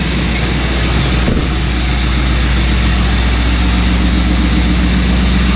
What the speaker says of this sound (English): just ignore that loud sound. I don't know what happened to the exhaust on this pickup